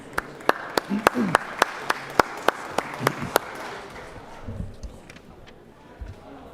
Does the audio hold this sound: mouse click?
no